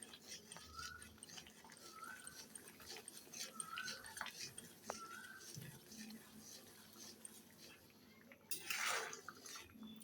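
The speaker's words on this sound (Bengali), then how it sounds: "আমার সবজিগুলো তো সিদ্ধ হয়ে গেছে, এখন হালকা করে একটু ঘুটে নিব।" Boiled vegetables being lightly mashed in a cooking pot for a healthy vegetable dish, heard as soft, scattered clinks of a utensil against the pot over a quiet kitchen background, with a louder scrape near the end.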